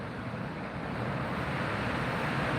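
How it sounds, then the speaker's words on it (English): Steady, loud wind rushing and buffeting continuously around hot tents, with a low rumble underneath and no other distinct sounds. "Can you hear that wind? It's getting windy."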